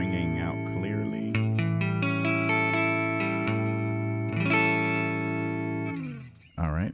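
An electric guitar picks the notes of a dominant 7th bar chord one at a time, each note ringing out in turn close up, ending in a brief strum.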